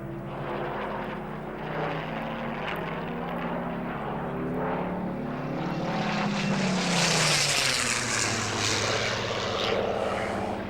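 A WWII propeller-driven fighter at the Warbirds Over Wanaka air show in New Zealand roars past overhead, its engine drone building steadily to a loud peak and then easing away.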